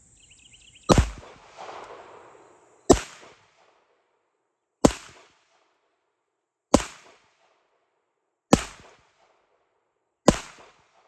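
Six sharp, loud pistol shots from a Rock Island Armory STK100 firing Blazer 115 grain rounds ring out one at a time, about two seconds apart, each with a quick decaying echo.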